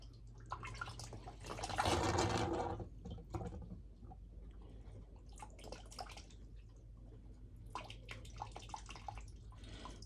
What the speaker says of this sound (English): I think that's the first time I've had water running through it in a long while.